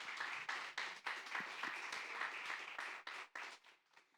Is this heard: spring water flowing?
no